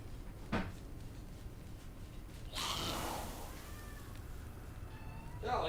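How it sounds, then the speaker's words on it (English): A large, hefty house cat gives a thin, high-pitched meow, heard faintly and fairly close in a quiet room, with a small knock beforehand and soft rustling afterward. "You're an absolute unit of a cat, but you cry like you're a gerbil."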